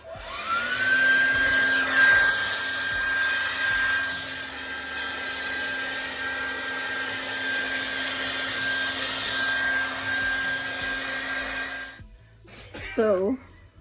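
Hood hair dryer running steadily while drying the roots of starter locs, a continuous whine with a low hum that holds for about twelve seconds, then cuts off abruptly, followed by brief faint handling noise.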